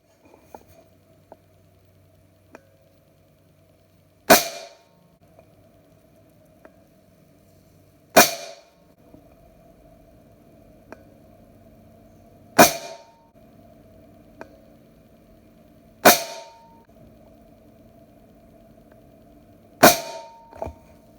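Benjamin Marauder air pistol firing 15.89 grain JSB pellets: five sharp, loud shots spaced about four seconds apart over a steady low hum, each crack followed by a brief ringing tail.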